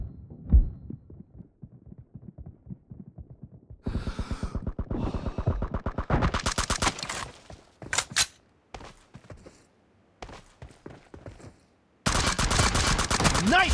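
Gunfire in the mobile game PUBG Mobile, team deathmatch mode: bursts of rapid shots come in separate loud runs with quieter gaps between them, over thumping game sounds.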